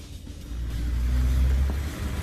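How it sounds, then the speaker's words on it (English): Car driving over a railway level crossing, a low engine rumble swelling as it passes close, steady and fairly loud with no speech. "And it's not long before a car goes for it."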